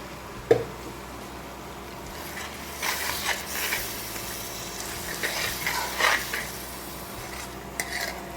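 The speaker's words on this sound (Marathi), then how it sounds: "मी परतवायला ती मटकी बरोबर टाकत आहे आणि छान अशी ती परतून घ्यायची ती प्युरी" Tomato puree being sautéed with moth beans (matki) in a pan for spicy Puneri misal, a spoon scraping and clinking against the pan in irregular bursts, close and moderately loud, with a soft sizzle underneath.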